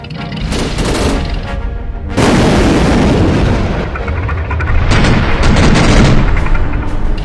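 Artillery fire on a Minecraft World War 2 server: loud, dense booms and blasts follow one another almost without pause, mixed with rattling gunfire, close and continuous throughout.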